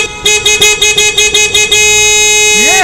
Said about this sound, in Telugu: అసలు ట్రాఫిక్ ఇలా ఆగున్నప్పుడు హార్న్ కొట్టకూడదని తెలీదా?